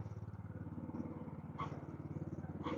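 A motorcycle engine idling in an enclosed garage, a steady rapid low thrum with brief rising rev bursts, quiet and slightly muffled.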